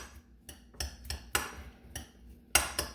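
A metal utensil clinks and scrapes against a bowl while slaw ingredients for Hawaiian sliders are mixed, about eight sharp, irregular taps and knocks close by, with no talking.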